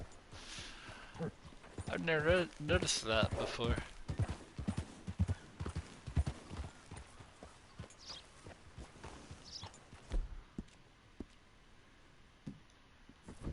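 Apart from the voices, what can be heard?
horse hooves clip-clop in Red Dead video game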